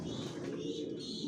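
Grizzle racer pigeon hen of Johnson line, in down shape, coos softly and continuously in a loft, a low steady murmur with no talk over it.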